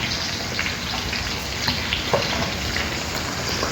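Tadka tempering sizzling in hot oil for biryani dalcha, a steady close crackle and hiss of frying that runs without a break and carries no speech.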